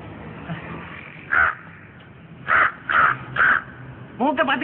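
A voice imitates a crow, letting out four harsh caws in a slow, uneven rhythm over a low background murmur, then a short vocal burst.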